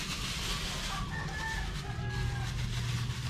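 Chickens cluck and call around a feeding spot made from PVC pipe on a farm, with brief bird calls over steady low rustling and background noise, no talk.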